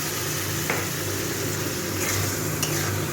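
A masala spice paste with a splash of water sizzles and spits in a pan while being fried for sola kochu, a steady close crackle broken by a few light scrapes and clinks.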